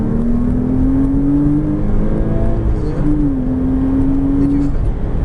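Porsche Cayman S on a racing circuit accelerating hard to full throttle, a loud steady engine drone climbing in pitch, dipping briefly at a shift, then rising again, with the occupants talking over it.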